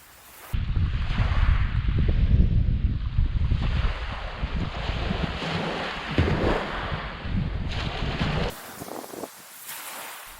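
Wind buffets a microphone on the Thames Estuary coast at Grain Coastal Park during fishing, a loud gusty low roar that starts abruptly, swells and fades, then cuts out near the end.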